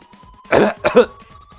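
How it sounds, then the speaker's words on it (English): A woman character in the video game Zero Escape: 999 coughs hard from smoke in two harsh, raspy bursts, close and loud, with faint background hum and no speech. "she's coughing so hard she can't even talk."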